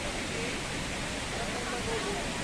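Cachoeira dos Macacos waterfall in Granja, Ceará, a broad, steady rush of falling water heard as constant noise, moderately loud and unbroken.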